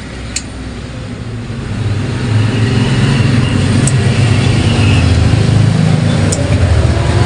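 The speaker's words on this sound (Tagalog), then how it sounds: "sa fan lang yan na maingay" The cooling fan in a Broadway VX18 power amplifier gives off a loud, steady, low rushing hum close by, which swells slightly after a faint opening click and then holds constant throughout.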